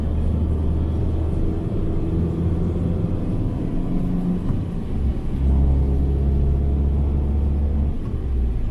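A 2015 Fiat 500 Abarth with a manual gearbox driving on the road, heard from inside the cabin as a loud, steady low engine rumble and road noise with slight swells in pitch, and no talking.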